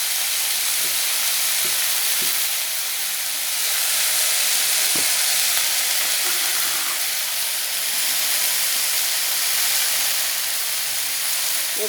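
Flower fritters fry in a pan with a steady, close hiss of hot oil and a few faint clicks, unbroken throughout with no voices.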